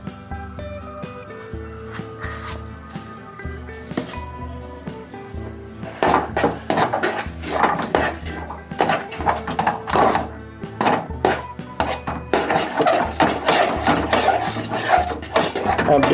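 Paal kesari stirred in a pan after a little ghee is added: repeated scraping and rubbing strokes of a spoon against the pan, quiet at first, then louder and quicker rasping from about six seconds on.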